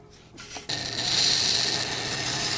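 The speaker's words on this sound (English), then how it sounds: "I'm gonna sand them down and try and shape them better into some shoes there" Hand sanding of wooden clown shoes, a steady close rasping scrape of sandpaper on wood that starts after a brief pause and continues evenly.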